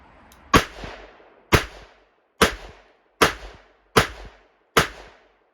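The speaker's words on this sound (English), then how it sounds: "So with the Smith & Wesson Model 15 on the right target, 6 shots." Six sharp shots from a Smith & Wesson Model 15 .38 Special revolver, fired one at a time at a steady pace of about one per second, each loud crack followed by a short echoing decay.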